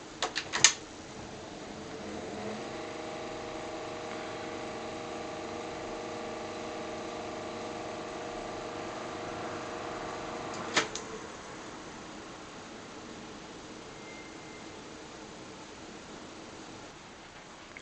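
Tandberg 4000X reel-to-reel tape machine, run from a variable-frequency AC supply: a couple of switch clicks, then a faint, steady motor hum for several seconds, another click, and a quiet low background afterward.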